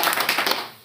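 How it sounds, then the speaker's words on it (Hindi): Short burst of clapping from an audience in a Hindi-speaking gathering, applauding a speaker named Harjinder; dense, even patter of many hands at close range that fades out near the end. "हरजिंदर जी ने, तो इनके लिए एक बार जोरदार तालियां होनी चाहिए"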